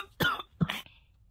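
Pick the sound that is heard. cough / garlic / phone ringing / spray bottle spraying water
cough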